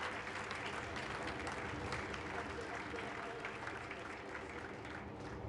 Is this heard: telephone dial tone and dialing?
no